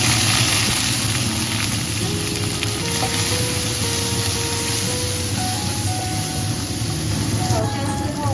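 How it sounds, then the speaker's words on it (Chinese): Meat sizzles and fries steadily in a wok as garlic and chili go in and get stirred, a continuous loud hiss with a voice talking over it. "那把肉煸香，倒入蒜头跟辣椒。"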